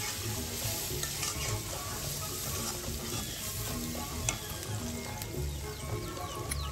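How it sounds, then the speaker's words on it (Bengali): Onion and green chilies frying in hot oil for a Bengali koi fish curry, a dense continuous sizzle with stirring scrapes and clinks, steady and close. "তেলে পেঁয়াজ, কাঁচামরিচ দিয়ে একটু ভেজে সমস্ত রকম মশলা দিয়ে দিতে হবে।"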